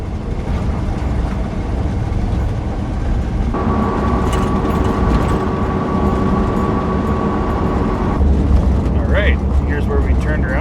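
Steady, loud interior road rumble inside a 1986 car driving on a gravel road, a continuous broadband drone with a faint tonal hum joining midway, people talking over it briefly near the end.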